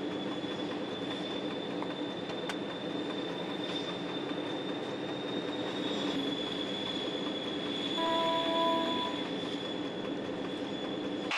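A TGV high-speed train on a test run draws maximum current from the overhead catenary, making a loud, steady rolling roar with a constant high electrical whine throughout, and no talk.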